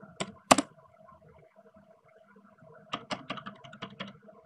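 Quick taps on a phone's on-screen keyboard while searching the Play Store: a couple of sharp clicks early, then a denser run of close, crisp taps near the end, with no talking.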